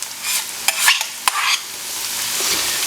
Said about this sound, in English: so now we're going to mix in our dry ingredient paste. And now we will saute this